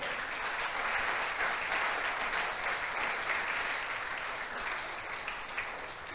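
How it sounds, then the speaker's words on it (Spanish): A church congregation gives a sustained round of applause in praise during a Christian sermon, a dense, even roar of clapping that holds steady and fades slightly toward the end. "Dale un aplauso al Rey."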